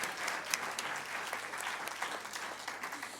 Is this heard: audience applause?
yes